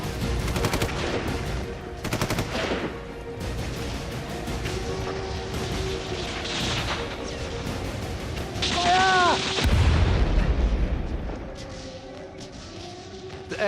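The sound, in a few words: gunfire in WWII documentary battle reenactment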